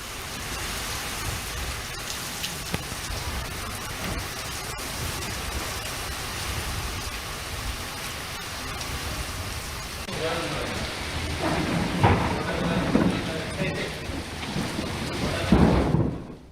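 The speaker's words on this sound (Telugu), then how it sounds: "ఉన్నట్టుండి ఉరుములు మెరుపులతో కూడిన భారీ వర్షం పడింది." Heavy rain pours down during a sudden thunderstorm in Jannaram mandal, Mancherial district, Telangana. A dense, constant roar of rainfall builds louder toward the end, with low rumbling thunder swelling beneath it.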